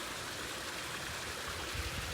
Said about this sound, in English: enjoy the serenity of the waterfall